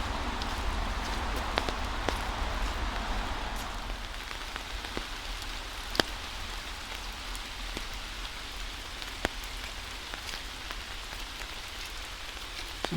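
Steady rain in a wooded park falls as a constant hiss with occasional sharper drop ticks, with a low rumble from a nearby highway underneath.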